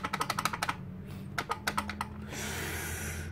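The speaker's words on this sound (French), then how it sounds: "Est-ce qu'il fonctionne ce bouton? Ou est-ce qu'il clique juste pour le fun?" Clicking of the menu button on a boxed NeoGeo X Limited Edition handheld console, a quick run of crisp button clicks, a pause, then another burst of clicks followed by a soft rustle.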